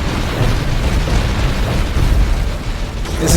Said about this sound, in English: Concentrated fire on the base created a number of secondary explosions